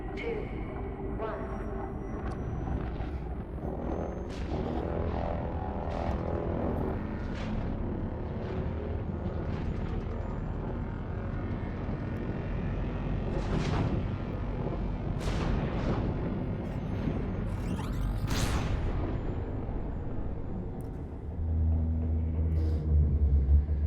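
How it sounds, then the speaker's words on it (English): Lightning strikes crack sharply through a heavy, continuous rumble during a fleet carrier jump in Elite Dangerous Odyssey, with several loud strikes scattered across the roar. "Those lightning strikes are so cool."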